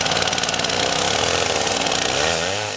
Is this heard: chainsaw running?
yes